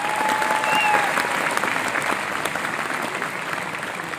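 Steady, moderately distant applause from an audience at a talk, sustained throughout without break as a guest speaker is welcomed to the stage.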